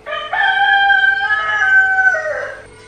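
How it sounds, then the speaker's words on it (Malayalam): A rooster crows once nearby on a rural homestead, a loud drawn-out cock-a-doodle-doo lasting about two seconds against quiet background, no talking. "എന്റെ എല്ലാ വ്ലോഗിലും കോഴിയുടെ കൂവല് കാണും"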